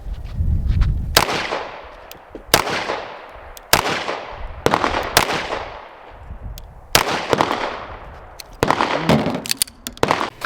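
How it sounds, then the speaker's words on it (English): Staccato 2011 pistol shots at a shooting range: seven or eight sharp, loud, echoing cracks at irregular one-to-two-second intervals, each decaying quickly, with no speech between them. "All right, shooting the Staccato 2011."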